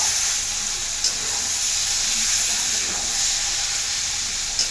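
Marinated meat sautéing in a pan for a home-style curry gives a steady, close hiss and sizzle that holds level throughout, with a couple of faint clicks and no voices.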